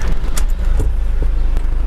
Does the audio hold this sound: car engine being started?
yes